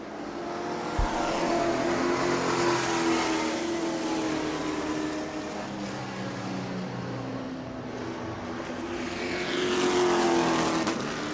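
Race cars circling a half-mile oval track, engines swelling and fading as they pass, a continuous roar with louder surges at the start and end.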